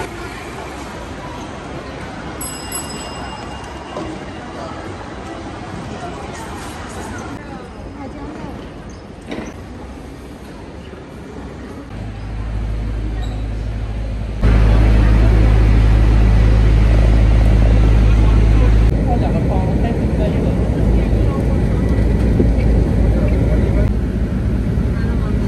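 Busy airport terminal ambience with a steady murmur of voices and a loud low rumble that rises partway through, likely a plane or building machinery, filling a large indoor space.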